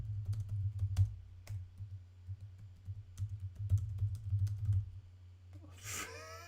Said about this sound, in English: I'm just typing your comment.